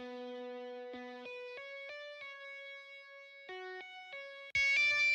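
Default guitar sample in FL Studio with no effects, playing a short clean melody of sustained single notes that change pitch in steps, fairly quiet, ending in a louder note.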